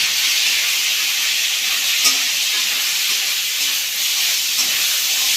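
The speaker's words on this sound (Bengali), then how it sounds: "সেই ম্যারিনেট করা মাংসটা আমি এর মধ্যে দিয়ে দিলাম" Marinated meat hits lightly oiled pan for mixed fried rice and sizzles in a loud, unbroken hiss close by, with a faint clink or two of stirring.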